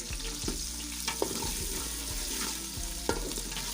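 Onions frying in hot ghee for chicken pulao, a dense close sizzle with a few sharp stirring knocks against the pot, no voices.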